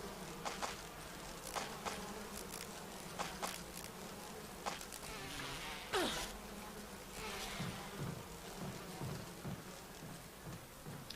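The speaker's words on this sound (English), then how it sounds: "We do this while getting attacked by bees." Swarming bees attacking in Resident Evil, a close buzzing drone that rises and falls with sharp flyby swells and clicks, continuous and moderately loud with no talk.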